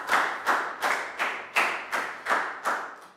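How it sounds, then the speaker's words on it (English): Slow, rhythmic clapping in a primary school classroom, eight or nine distinct claps spaced about a third of a second apart, close and moderately soft, with no talking. "Round of applause"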